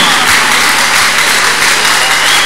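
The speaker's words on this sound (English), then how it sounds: "A big clap offering to Jesus." A church congregation at a testimony service applauds loudly and steadily, a dense, continuous wash of clapping filling the whole moment.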